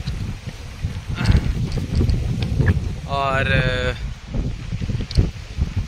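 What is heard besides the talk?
strong wind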